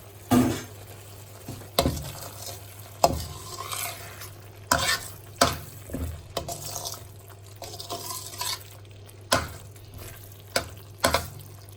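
Urad dal tadka spices cook in ghee, with a low sizzle under frequent clinks and scrapes of a spoon stirring against the pan in irregular bursts.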